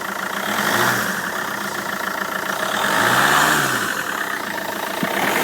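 A 2006 Peugeot 407 2.0 HDi diesel engine running steadily at idle, a constant close rumble with a couple of gentle swells in pitch.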